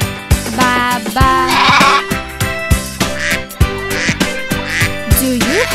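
Bleating in a children's nursery song about a pet sheep, a run of repeated strong 'baa' calls set to music, likely a sung imitation rather than a real animal.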